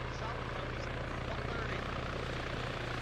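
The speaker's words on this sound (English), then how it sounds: "attack heli coming in" Attack helicopter in the Arma 3 video game, its steady rotor drone and engine roar filling the scene continuously and loudly, with players' voices partly mixed in.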